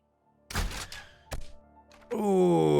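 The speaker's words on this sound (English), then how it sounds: "who doesn't love to just be firing off some exploding bolts into groups of zombies" In a zombie video game, exploding bolts are fired into groups of zombies, giving a few heavy thunks and muffled thuds followed by a sustained rumbling burst.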